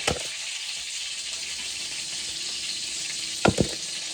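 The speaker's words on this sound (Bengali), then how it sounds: "এখন এই যে আমি মুরগিগুলো ভাজা করছিলাম, মুরগি ভাজাগুলো" Chicken pieces frying in a shallow layer of oil, a steady close hiss of sizzling throughout, with two brief sharper knocks near the end.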